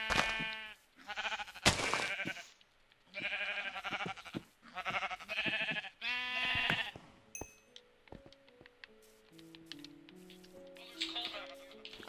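Minecraft sheep bleating repeatedly, several loud wavering baas in the first half, then quieter game tones and clicks; a voice speaks briefly among the calls.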